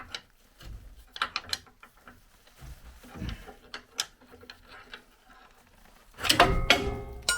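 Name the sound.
track bar being pried down with a pry bar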